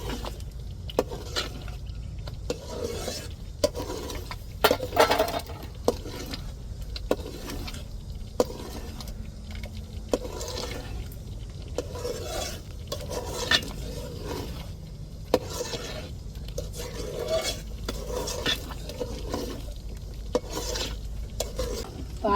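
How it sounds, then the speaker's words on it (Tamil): Thick amla jam stirred continuously in a pan, a steady scraping and bubbling texture with repeated spoon strokes throughout, moderately close and unbroken by talk. "இப்படி அடி பிடிக்காம நம்ம கிண்டிக்கிட்டே இருக்கணுங்க"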